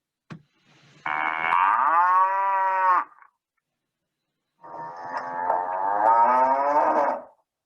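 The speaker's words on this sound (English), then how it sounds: "The sound of cow is known as moo." Two long, loud cow moos, each lasting about two seconds, separated by a short silence; clear and close with no other sounds.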